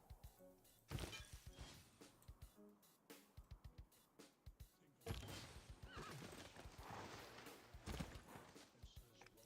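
Horse unit neighing and clip-clopping hooves in Civilization VI, a Netherlands horse unit near the city of Utrecht, with repeated whinnies and hoof hits over busy game effects.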